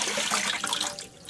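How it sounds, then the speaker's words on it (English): Water poured out of a QDH 3.5L cool mist humidifier tank into a sink drain; a close, continuous splashing gush that tapers slightly toward the end, with no voices. "You just shake out the little extra bits of water there, and the rest goes down the drain."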